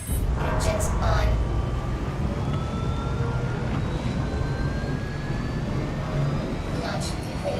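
Aircraft engines spool up in GTA 5 during rainy weather, a continuous loud roar with rising whine tones building over several seconds, rain noise beneath.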